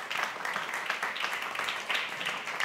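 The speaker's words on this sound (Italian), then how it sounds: "Professor Giuseppe Valditara, che accogliamo un applauso." Audience applause welcoming an education minister at an Italian book presentation, a steady patter of many hands clapping at moderate distance, fairly even throughout with no talk over it.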